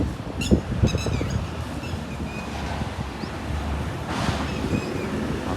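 Strong, steady wind roars ahead of an unseasonal rainstorm with lightning nearby, a broad rushing blow that swells slightly near the end, with no talking.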